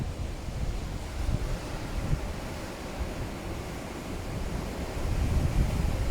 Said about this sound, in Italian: c'è solo la sabbia, il mare, le onde